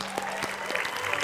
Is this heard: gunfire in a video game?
no